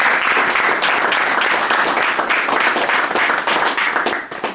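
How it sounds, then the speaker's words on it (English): Audience applause at a college panel discussion, a loud, dense round of clapping from a crowd close by, holding steady and then tapering off at the end. "gotta get him a round of applause real quick"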